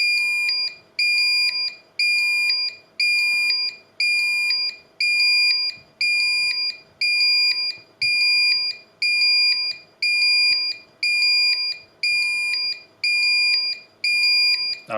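A Honeywell Galaxy Flex security alarm sounds a loud, steady, high-pitched electronic beeping, with regular pulses about once a second that continue throughout.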